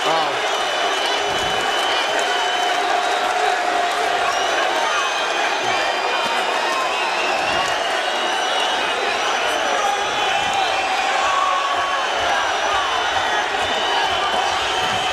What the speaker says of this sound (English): This crowd is on its feet.